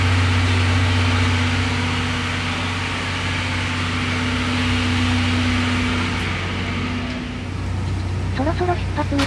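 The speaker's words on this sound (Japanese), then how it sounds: "エンジンかな。 音がすごいわね。" Steady low mechanical hum of the engine aboard a Spacia X limited express train, a constant drone with tonal bands throughout, loud and close, with a voice talking over it.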